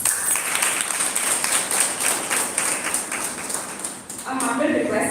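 An audience applauds to welcome a speaker at a gathering, a steady round of clapping from many hands at moderate level, fading briefly near the end as a voice begins speaking.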